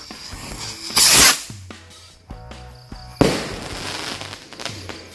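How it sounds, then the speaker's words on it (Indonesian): Two loud hissing whooshes of jumbo firework rockets launching, each a sharp burst of noise with faint crackle and pops between. "Lanjut kita sumet mercon roket jumbo."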